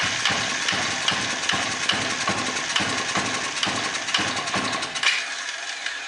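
A small carbureted engine with a suspected valve problem sputters and struggles to run, with irregular chugging pulses puffing unevenly for several seconds before the low rumble drops out near the end.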